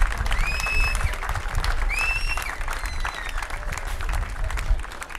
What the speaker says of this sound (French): give the athletes a round of applause